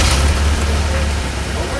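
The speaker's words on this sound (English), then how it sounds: "That was the sound of a vehicle made possible by a battery that activates the ignition system of a car" Car engine running steadily, a low close rumble with a constant broadband hiss and no break over a short stretch.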